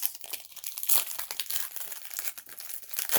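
A foil Pokémon card booster pack wrapper crinkles and tears open up close, with continuous bright, papery crackling and a few sharper rips, loud and without speech.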